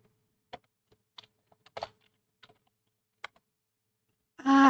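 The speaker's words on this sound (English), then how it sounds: "Typing." Light, sparse keystrokes on a computer keyboard, a few scattered clicks and taps close by in a quiet room, ending with a louder burst of noise.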